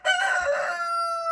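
A rooster on a homestead gives a single clear crow, close and fairly loud, with a sustained tonal call that trails off, and no talking.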